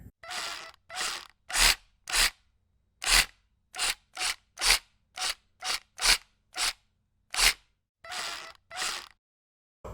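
A hacksaw saws through the tips of metal spear pieces in a run of short back-and-forth strokes, about twenty rasping bursts with brief pauses between them. The sound is close and fairly loud, with no talking.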